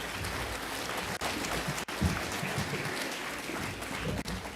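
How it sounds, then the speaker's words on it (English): Applause from a conference audience at a political party event in Bournemouth, a dense wash of many hands clapping steadily, loud and continuous with a couple of brief dips, no talk over it. "A round of applause to you all and to Peter, please."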